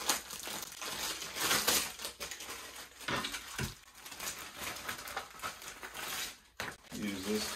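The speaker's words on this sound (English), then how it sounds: "Go ahead and unwrap everything." Crinkling and crushing of plastic wrap and packaging as an ASUS monitor and its base are unpacked, close and busy with irregular bursts throughout, while a person talks over it.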